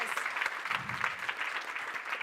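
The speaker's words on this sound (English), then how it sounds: "Let's give her a round of applause." Steady applause from a school audience for the student body president, an even patter of clapping at moderate level without voices on top.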